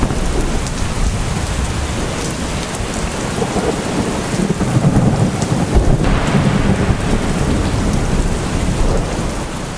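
Heavy monsoon rain pours down in Gujarat, a dense steady hiss of rain on surfaces with low rolling thunder swelling in the middle, loud and close, with no voices.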